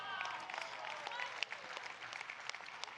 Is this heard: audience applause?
yes